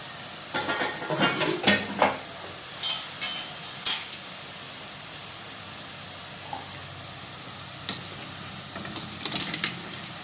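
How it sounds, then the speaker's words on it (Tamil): Boondi batter drops into hot oil and fries with a steady, close sizzling hiss, broken early on by a handful of sharper spattering bursts and later by a few faint ones. "நம்ம பூந்தி போடும்போது எண்ணெய் நல்லா சூடாக இருந்தால் தான் நம்மளுக்கு அழகாக வரும்"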